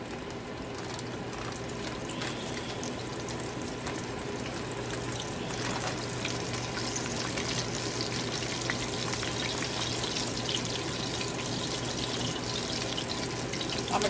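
Flour-coated chicken pieces frying in a pot of hot oil, giving a dense, steady sizzle with fine crackles that runs loud and unbroken throughout, with no voices.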